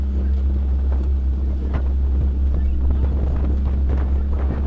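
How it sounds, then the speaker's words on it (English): Low wind buffets a microphone on open water during a collegiate lightweight rowing race between Princeton and Navy, a constant deep rumble with faint scattered knocks and no clear voices. "Got about a 7-mile-per-hour headwind"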